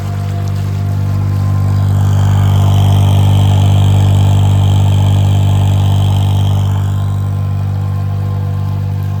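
Diesel engine running inside a home-built submarine during surface trials, a loud, steady low drone with a constant hum and a faint hiss of water rising and falling over the top.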